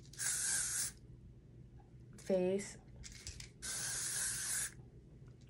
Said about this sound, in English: so I'll spray my neck and back